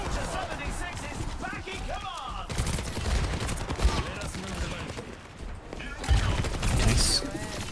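Rapid gunfire from the player's weapon in an Overwatch-style team shooter, a fast stream of shots under steady talk and busy game sounds throughout.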